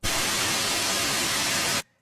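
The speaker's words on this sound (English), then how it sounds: "This is white noise, and it's called so because just like white light, it's made up of all frequencies" A steady, loud hiss of broadband white noise fills nearly two seconds, then cuts off abruptly into near silence.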